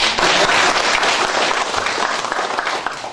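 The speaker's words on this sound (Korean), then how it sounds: "박수 한번 쳐드리십시오" Loud, sustained applause from residents at a Mongtan-myeon town meeting with the Muan county governor, a thick burst of clapping that tapers slightly toward the end.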